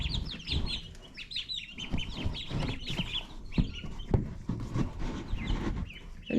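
Ducks and other poultry call and cluck close by while being moved to a new pen, with a steady stream of overlapping chatter, sharp honks and chirps throughout.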